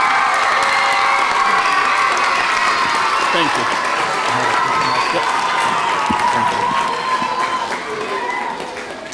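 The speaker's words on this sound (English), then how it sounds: "So one final round of applause for William DeBate Elementary" A crowd claps and cheers for an elementary school at a union holiday event, loud sustained applause with whoops and children's shouts, while a voice speaks briefly over the noise before it fades slightly at the end.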